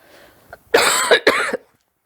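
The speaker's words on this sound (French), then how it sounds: "Excusez-moi pour la toux." A person coughs sharply several times in a quick cluster, loud and close, with a short throat-clearing quality and a brief quiet before it.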